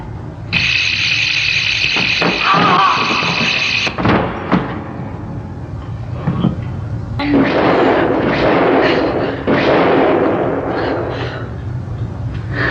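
Grenade blasts in a Doctor Who battle scene, heavy explosive bangs and rumbling debris following a high tonal whine, loud and close, with scattered impacts and no clear speech.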